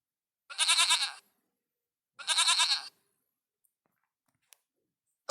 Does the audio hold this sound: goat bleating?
yes